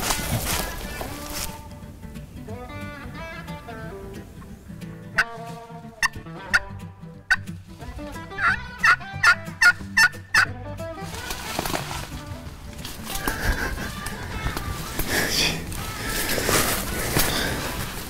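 Wild turkeys gobble during a Virginia spring hunt, with a run of loud, rattling gobbles from several birds, some close and some farther off, over an outdoor background and a few soft sounds.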